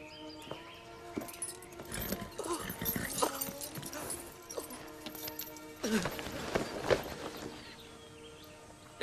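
Horse hooves clop unevenly close by, with a few sharp knocks and rustling; no clear whinny stands out.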